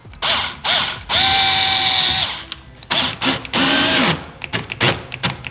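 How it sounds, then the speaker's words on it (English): Power drill boring through a carbon fiber side skirt on a Toyota Supra, with loud whining bursts that start and stop repeatedly, a long sustained run, then short choppy pulses close to the mic. "I'm gonna go ahead and at least drill a hole and get something tacked into place."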